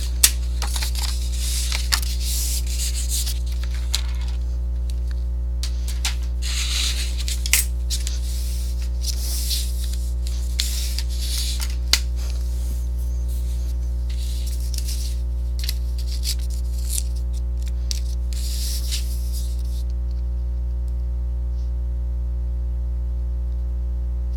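Paper is scored along the grain with a scoring tool while making a pop-up card, giving a series of soft scraping, rubbing strokes for about twenty seconds over a strong steady mains hum, then quiet.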